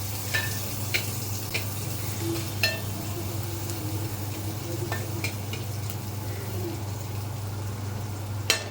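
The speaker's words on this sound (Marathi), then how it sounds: "सो हे असं फ्राय करायचं आहे" Half an onion sizzles and fries in a pan with already browned garlic, a steady crackling hiss with occasional sharper pops and light stirring, close and without talk.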